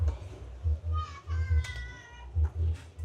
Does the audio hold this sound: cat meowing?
yes